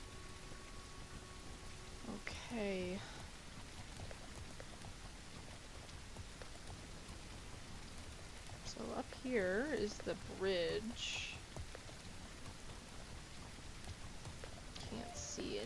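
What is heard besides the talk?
rain falling in the video game Legend of Khiimori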